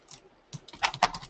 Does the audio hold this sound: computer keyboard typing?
yes